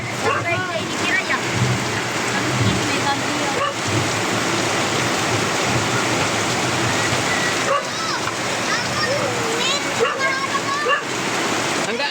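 Heavy rain pours down in a dense, continuous roar, with faint chirps and scattered splashes over the steady downpour.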